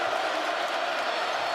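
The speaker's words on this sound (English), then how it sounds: "here comes the crowd again at Coleman Coliseum" Basketball crowd at Coleman Coliseum during an Alabama versus Mississippi State men's game, a dense steady roar of cheering from a large arena audience, with faint talk underneath.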